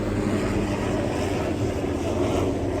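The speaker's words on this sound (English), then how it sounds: "it's like a helicopter" A steady, loud droning engine rumble fills the whole stretch without letup, like a helicopter passing low overhead.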